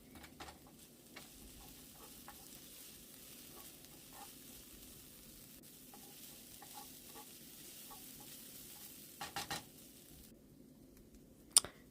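Onion softens in a pan with basil and crushed pecans, giving a faint, steady sizzle broken by occasional soft stirring clicks and scrapes, with a few louder knocks near the end.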